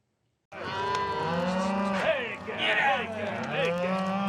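Hundreds of cattle on a Wyoming cattle drive moo loudly and close by, long low bellows overlapping one another with no pause.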